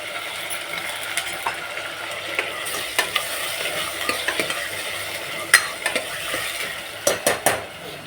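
Mutton fries in a pan with fried onion, cumin and asafoetida while being stirred, a steady sizzle broken by repeated scraping and clinking of a metal utensil against the pot, close and fairly loud.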